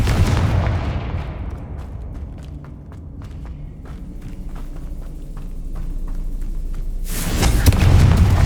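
Confringo fire spell explosion in the Hogwarts Legacy video game: a loud, broad blast bursts in near the end after a fading rumble, with scattered sharp thuds and impacts sounding through the quieter middle stretch.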